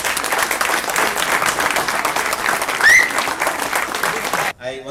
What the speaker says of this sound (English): can I have a loud round of applause for Radhi Babu?